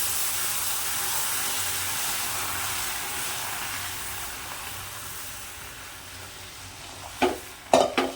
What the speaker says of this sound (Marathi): आता यामध्ये ना मी थोडं थोडं हे दूध घालणार आहे अगदीच थोडं थोडं घालायचं आणि असं हलवून घ्यायचं एका हाताने